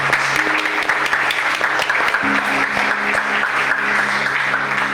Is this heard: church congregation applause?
yes